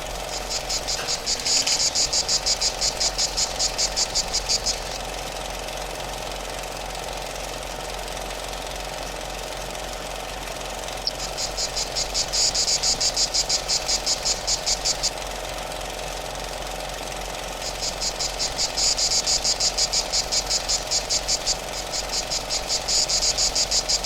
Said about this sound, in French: Les cigales aussi sont au rendez-vous.